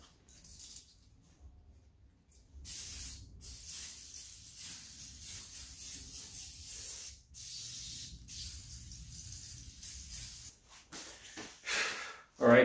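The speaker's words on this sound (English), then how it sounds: "One last spray down." Cleaner sprayed in repeated close hissing bursts onto Honda B-series transmission parts from an EF9/ED7 Civic or CRX, with short pauses between sprays and a louder final burst.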